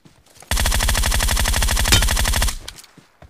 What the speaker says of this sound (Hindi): यहाँ पर गोली चलने की आवाज़ आती है और एक AWM भी चलने की आवाज़ आती है